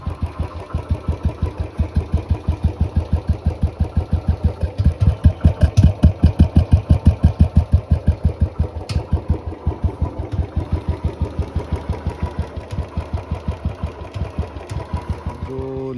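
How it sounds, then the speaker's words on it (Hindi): Royal Enfield Classic 350 Bullet, a 2018 BS4 model, idling after a carburetor fix, its single-cylinder engine thumping in an even, loud, close beat that swells slightly mid-way and runs steadily. "आप देखिएगा कि ये साउंड दोबारा वो मेरे बुलेट का जैसे पहले होता था वैसे वाला"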